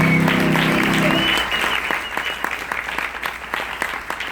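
An audience on a cruise screening event bursts into applause after a sustained tone, the clapping loud and dense, then thinning into scattered claps with some crowd voices.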